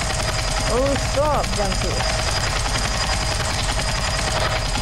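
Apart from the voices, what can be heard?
helicopter flying in Roblox Airplane Simulator video game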